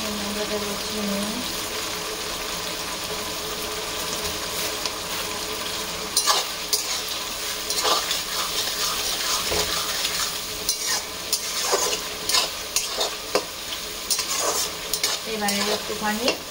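Food being cooked in a wok (kadai) for a Bengali Christmas meal, a steady sizzle under repeated close scrapes and clinks of the ladle against the metal, which grow busier midway.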